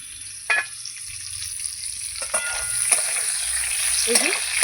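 Continuous sizzle of pointed gourd frying in a pan, punctuated by several clanks and scrapes of stirring and a lid, with faint background voice.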